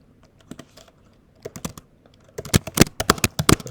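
Typing on a computer keyboard while writing Rust code, sparse key taps at first building into a rapid, loud burst of clicky keystrokes close by.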